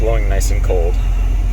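Air conditioning blowing cold inside a 1993 Toyota Land Cruiser JDM 70 Series Heavy Duty 77, a loud, steady rush of air filling the cabin, with a voice briefly speaking over it.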